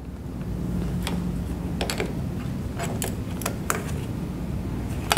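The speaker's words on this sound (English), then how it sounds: "now our bolts are tightened" Bolts on a replacement gear pump for a Bettis electro-hydraulic operator being torqued down with a wrench: a steady low mechanical rumble broken by a few sharp ratchet-like clicks, close up, with no talking.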